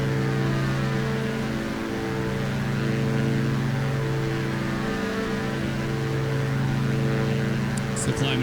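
Propeller aircraft engine drones steadily through a climb in the X-Plane 11 flight simulator, a continuous harmonic hum at constant loudness with someone talking over it.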